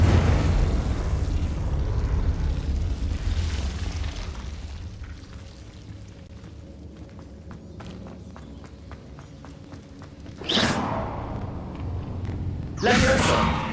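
Confringo spell blasts in Hogwarts Legacy, with a rumbling fiery explosion at the start fading into softer game sounds, then two sharp bursts later on, close and loud.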